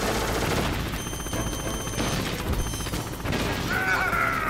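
Gunfire in Metal Gear Solid, dense rattling bursts and crashing impacts over a rumbling game background, loud and continuous, with a tonal electronic sound near the end.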